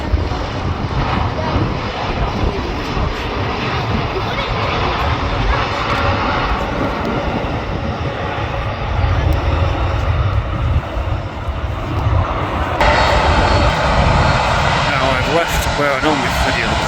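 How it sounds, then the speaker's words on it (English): An airliner landing at Manchester Airport roars with reverse thrust on its two middle engines, a loud, sustained broadband jet rumble that holds steady for the whole stretch. "Reverse thrust on the two middle engines."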